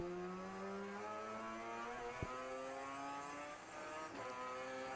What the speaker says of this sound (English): A couple of V8s go through there.